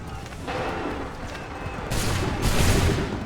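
Musket volleys in Assassin's Creed III, with several sharp, loud, broadband blasts of massed gunfire spread over a few seconds against a busy battlefield backdrop.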